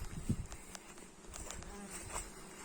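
Italian honeybees buzz around a beehive, a steady close insect hum with brief louder passes of individual bees, a faint voice briefly audible beneath.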